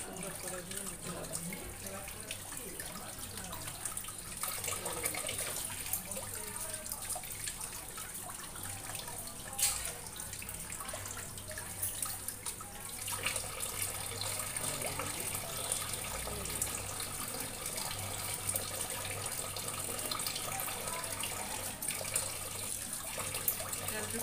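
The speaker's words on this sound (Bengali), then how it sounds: "তো দেখুন এক এক করে সব মাছ ধুয়ে নিলাম।" Raw rui, katla or pangas fish being washed by hand under a running kitchen tap, giving a continuous splashing water stream with faint clinks, moderately close and fairly quiet throughout.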